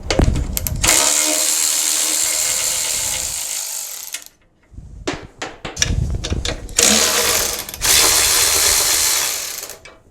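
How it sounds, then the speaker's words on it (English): A Milwaukee M12 cordless ratchet spinning a bolt, with loud, close motor whirring in long bursts, brief clicks and rattles between runs, then another sustained run. "one of the things I really like about the standard ratchet from Milwaukee, not the fuel versions, is because the head is a lot more compact"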